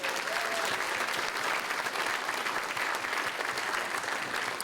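Sustained audience applause fills a hall at a cultural diversity awards ceremony in the Fraser Valley, a dense, steady wash of many hands clapping with no break.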